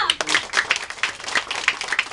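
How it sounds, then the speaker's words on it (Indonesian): Crowd applauding a short anti-bullying drama staged by volunteers: sharp, uneven hand claps from a small audience, close by, with some talk in the background. "Tepuk tangannya."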